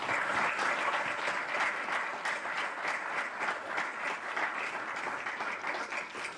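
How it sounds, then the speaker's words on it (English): An audience at a professorial inauguration gives a round of applause, with dense, sustained clapping that fills the hall and swells and eases slightly, with no voices over it. "we should give another round of applause"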